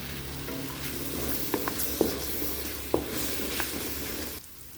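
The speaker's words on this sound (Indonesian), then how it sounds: "Tumis hingga bumbu harum" Spice paste with cinnamon, cloves and star anise sautéing in a pan for a chicken dish, a steady close sizzle with a few soft stirring clinks, then cutting off abruptly near the end.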